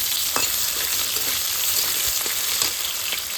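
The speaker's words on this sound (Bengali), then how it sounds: "আলু কিন্তু একদম লাল লাল করে ভাজা হয়ে গেছে" Potato pieces fry in hot oil ahead of ridge gourd in a home cooking setting, giving a steady, close broadband sizzle with occasional soft stirring clicks and scrapes throughout, and no talking.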